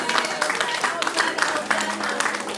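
A church congregation applauding during a worship service, a short spell of brisk, even clapping from a crowd that fills the room at moderate loudness.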